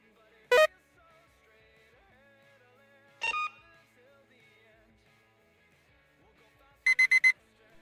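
Electronic thermometer beeps for a ghost-hunting game: a single high beep, another a few seconds later, then a rapid burst of four short bright beeps, crisp and isolated against near silence.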